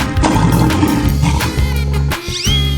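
Lion roaring in a 3D animal slide video game, a rough, sustained growl blended into busy, loud game music, with a brief sweeping call near the end.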